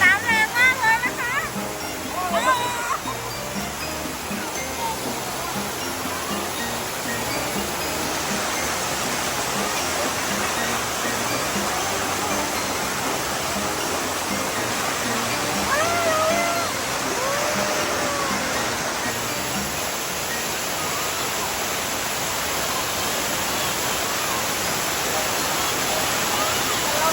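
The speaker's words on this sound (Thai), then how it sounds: "น้ำแรงมากเลยนะคะ" Strong water rushes continuously and loudly at Sai Yok Noi waterfall in Kanchanaburi, a dense steady roar filling the scene, with people's voices heard now and then beneath it.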